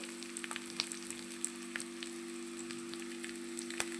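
Mashed boiled potatoes frying over low heat in a pan for aloo curry, a soft continuous crackle with scattered small pops, faint and close, with a steady low hum underneath.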